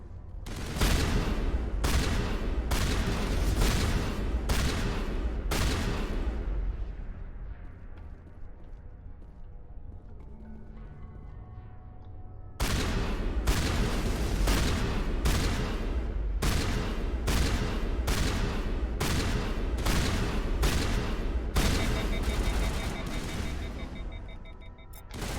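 Rapid, loud gunfire in Mass Effect Legendary Edition, coming as long sustained bursts of evenly spaced shots that break off into a quieter lull midway and then resume at full intensity.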